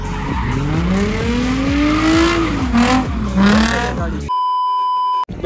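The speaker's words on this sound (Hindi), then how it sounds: "रिवर्स कर रहा है।" A car reverses on a track, its engine climbing and falling in pitch with tire squeal and skidding, loud and close, before the engine sound gives way to a steady electronic beep tone near the end.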